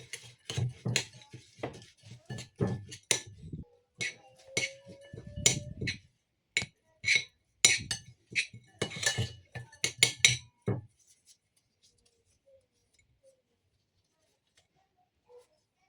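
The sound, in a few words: mixing keto energy bar ingredients in a bowl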